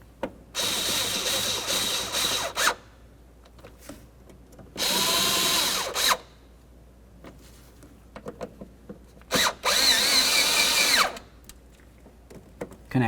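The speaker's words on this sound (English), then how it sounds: "All 3 new screws, start them in, snug them up." A power drill drives new screws into the windshield wiper cover of a Chevy C/K truck, whirring in three separate bursts with quiet clicks and handling noises between them.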